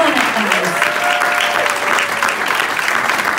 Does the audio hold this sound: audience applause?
yes